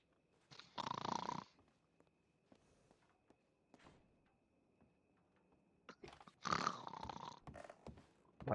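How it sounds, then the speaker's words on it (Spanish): A sleeping character in the video game Red Dead Redemption 2 snores in two long, raspy breaths several seconds apart, close and fairly loud, with faint thumps and footsteps between them. "pues que siga roncando"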